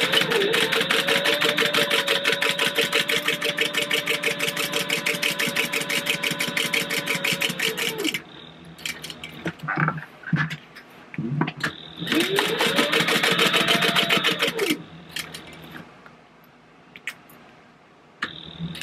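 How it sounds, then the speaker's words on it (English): A sewing machine set to stitch length 4 sews a purse seam an eighth of an inch from the edge, a rapid even mechanical chatter in two runs of several seconds, separated by brief handling noises and a pause. "I'm going to be sewing an eighth of an inch away from the edge"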